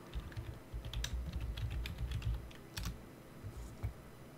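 Clicky keystrokes on a computer keyboard, typing a console command in the game 7 Days to Die, come in quick irregular bursts with short pauses, close and fairly quiet, no voices.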